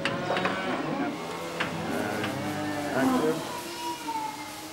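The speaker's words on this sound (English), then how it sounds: "They walk the cows down to the barn." Cattle being walked down to a farm barn let out several drawn-out moos one after another, near and clear, against a faint background.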